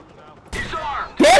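Gunfire in a shootout in the video game Watch Dogs: a quiet lull, then a sustained burst of shots followed by a louder, sharper volley at the end.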